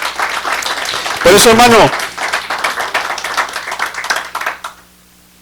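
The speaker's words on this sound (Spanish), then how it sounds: "Tiene un aplauso al Señor fuerte" A church congregation claps along with a preacher's loud, impassioned speech, a short burst of dense clapping that continues briefly before everything cuts off.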